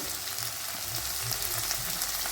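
Fennel seeds fry in a small amount of hot oil in a pan before potatoes go in, giving a steady, close, even sizzle with no voices.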